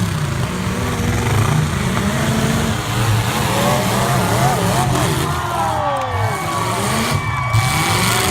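Demolition derby cars rev their engines in a loud, rough, continuous roar with rising and falling pitch, mixed with a crowd and an announcer talking over the arena noise.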